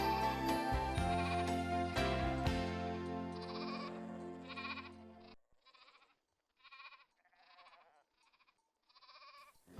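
Sheep bleat in a series of short, separate calls after a passage of music, the bleats moderately loud and spaced with brief gaps, heard in a Sunday school service setting.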